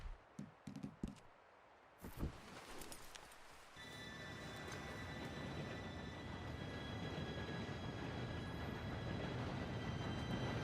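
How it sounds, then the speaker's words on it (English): A train in the video game Red Dead Redemption 2 approaches after a few sharp clopping taps, swelling into a steady, loud rumble with faint high metallic squeal that keeps building to the end. "Train should be here any minute now."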